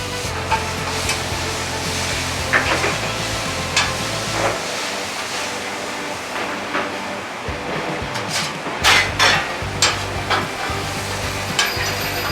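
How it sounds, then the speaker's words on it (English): Chopped onions sizzling and frying on a restaurant flat top griddle, a steady crackling hiss with occasional scraping and clinks of utensils, alone without talk. "Sick of waiting on those damn onions, so they're going on the flat top."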